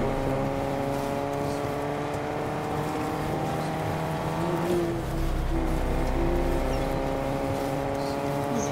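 Car engine droning steadily in a Fortnite match, a moderate hum whose pitch shifts and swells midway as the vehicle speeds up, heard under intermittent talking.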